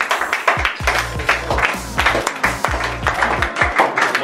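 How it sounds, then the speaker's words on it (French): Audience clapping at an evening networking event in Champagne, a burst of fairly close hand claps and taps with uneven rhythm, sustained for a few seconds without voices. "on peut les applaudir"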